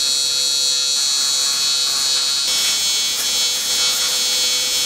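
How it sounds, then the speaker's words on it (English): Aluminum welding on a headlight mount gives a steady electric buzz and hiss that hums on without a break and grows a little harsher partway through, loud and close with no talk. "We're going to do some aluminum welding."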